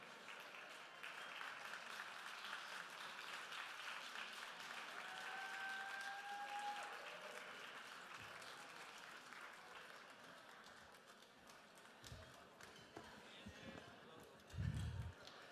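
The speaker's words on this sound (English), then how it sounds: "Let's give another round of applause." Distant audience applause fills a large room, steady broad clapping that slowly thins, with a few low thumps and a brief louder burst near the end.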